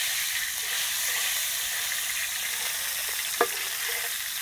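Tofu fries in a pan of hot oil. A continuous, close sizzle hisses steadily, with one brief utensil clink near the end.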